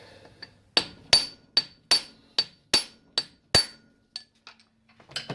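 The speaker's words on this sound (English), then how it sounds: "I'm not using the right hammer, but" A hammer strikes a metal part of a Honda CB350 motorcycle engine during teardown about a dozen times in a steady rhythm, each blow sharp and ringing, loud and close, with lighter taps toward the end.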